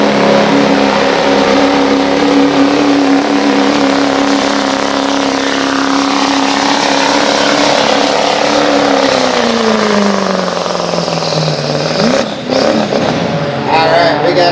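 A Chevy diesel pickup roars loud and close during a street-diesel truck pull, holding a heavy sustained drone whose pitch sweeps downward as it winds down near the end, with an announcer talking over it.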